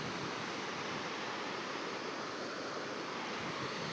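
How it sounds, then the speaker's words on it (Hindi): A waterfall roars as a continuous, even rush of falling water with no breaks and no voices, moderately loud throughout. "देखो क्या मस्त झरना है ना"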